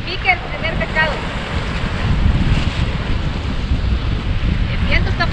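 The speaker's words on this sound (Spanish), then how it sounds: "El viento está fuerte, casi te avienta al otro lado." Strong seaside wind buffets the microphone at a coastal fishing spot near Ensenada, Baja California, a steady roaring rush with surf underneath, loud and continuous throughout with no clear talk.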